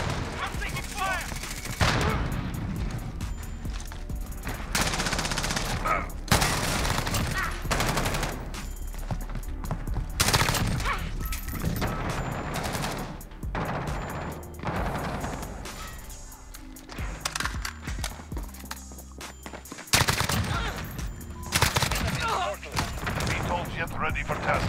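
M4A1 rifle fire and other gunfire in a Call of Duty Modern Warfare multiplayer match, with repeated loud bursts and shots spread through the scene, mixed with game voice callouts and effects.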